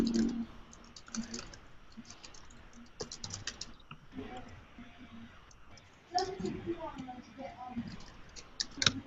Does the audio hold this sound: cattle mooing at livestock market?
no